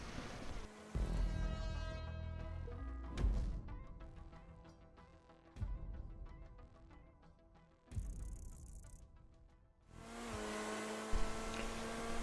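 A Vysser Neo sports car in GTA 5 accelerates on a racing circuit, its engine rising and falling through several gear shifts, with a brief high whine near the middle and a loud, sustained rev at the end.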